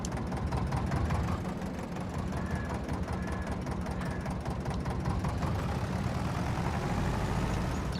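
Tractor engine idling in Farming Simulator 22, a steady low rumbling drone with a faint mechanical knock, running continuously at close range throughout.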